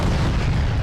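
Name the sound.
T-140 Angara tank 125mm cannon firing, Arma 3 video game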